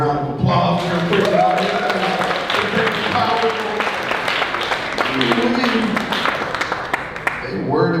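A live audience gives a round of applause for a panel at a protest-week discussion, sustained clapping throughout with voices talking over it.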